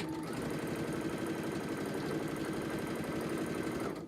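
A sewing machine runs a quarter-inch seam on a microwaveable handwarmer, giving a continuous rapid rattling hum for about four seconds before stopping. It is fairly quiet and close, with no voices.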